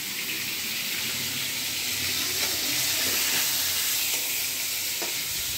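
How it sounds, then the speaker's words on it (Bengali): Onion sizzling in hot oil with ginger and garlic for a cauliflower curry, a steady close hiss with a few faint clinks of stirring, no voices. "ফুলকপি দিয়ে, এখানে পেঁয়াজ ভেজে একটু আদা রসুন দিয়েছি।"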